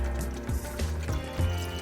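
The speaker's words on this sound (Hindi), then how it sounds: "और हाफ कप पानी ऐड कर रही हूँ।" Half a cup of water poured into a pot of Bengali aloo posto with potatoes and poppy seeds, a short gurgling fill with a few bubbling pulses, close and clear.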